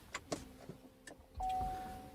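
A Chevrolet Volt powers on with a steady electronic start-up tone that rises after a few soft clicks and taps inside the cabin, sustained and fairly quiet.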